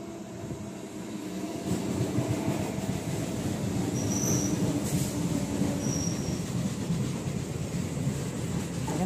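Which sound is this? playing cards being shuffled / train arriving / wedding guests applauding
train arriving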